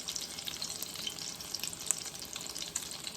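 Shrimp and beef egg foo young fries in a pan over medium-low heat, giving a soft, continuous sizzle and crackle with small pops, close but fairly quiet, with no voices.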